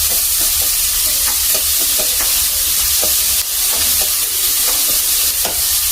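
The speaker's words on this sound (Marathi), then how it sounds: "आणि कांदा, त्याला छान परतून घ्यायचं" Onion sautés in a hot pan, a loud, dense sizzle with frequent spatula scrapes and stirring knocks close by, continuing without pause and with no one speaking.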